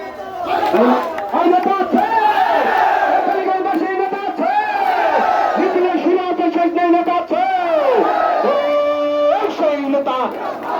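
Supporters of Saiful Islam Firoz chanting political slogans together at a rally in Kaliganj, Bangladesh, a loud, dense chorus of voices rising and falling in rhythmic cries that carry steadily throughout.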